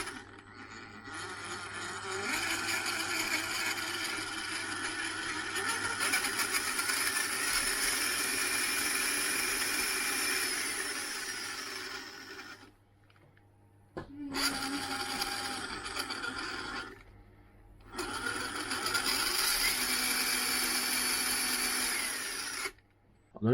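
Konect Fusion brushless motor, a rebadged Hobbywing unit, fitted in an RC rock crawler. A steady electric whine runs for a long stretch, cuts out, then returns in two shorter runs separated by brief silences.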